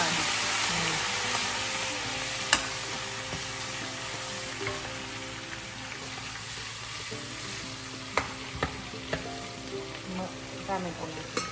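Asafoetida, turmeric, tomatoes and green chillies sizzle in hot oil and ghee, a steady crackling fry with occasional sharp pops and stirring clinks, fairly close.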